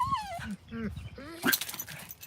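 Dogs at a fence give high, wavering whines and yelping cries in quick, close bursts, with a person talking nearby.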